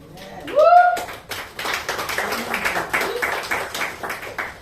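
A congregation at a church service claps in a loose, rhythmic burst of applause after a short vocal exclamation at the start, with scattered voices in the background.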